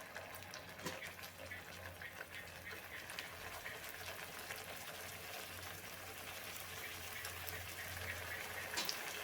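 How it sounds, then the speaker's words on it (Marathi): Aloo tikkis dropped into hot oil to fry, giving a continuous soft bubbling sizzle with a low hum underneath, steady and moderately close, no speech. "आता आपल्याला या टिक्की आहेत त्या ह्याच्यामध्ये तळण्यासाठी सोडून द्यायचे"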